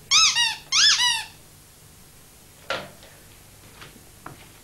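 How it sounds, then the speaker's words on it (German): Two loud, close squeaks from a squeezed squeaky bath toy in a bathroom, each a bright harmonic squeal lasting about half a second, followed by quieter handling knocks and clicks. "mein Quietschtier."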